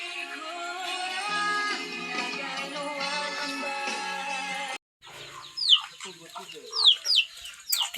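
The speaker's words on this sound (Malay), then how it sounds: "Ayam makan beras." Chickens clucking and squawking in short bursts as they peck at rice, following a stretch of broadband background noise and a brief gap.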